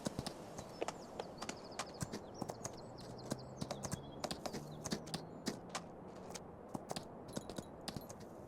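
Horse hooves in Farming Simulator 25, a steady run of crisp clip-clop hoofbeats on hard ground at a walking pace, moderately close, with faint birdsong and a low hum behind.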